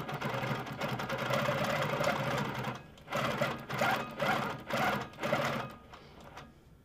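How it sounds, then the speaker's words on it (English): An Amara ST quilting machine on a lift table stitching loops and points, its fast mechanical whir running in several bursts with short pauses between, close and alone. "To check tension, I'm going to stitch little loops and little points, just making sure that my tension looks okay in those areas."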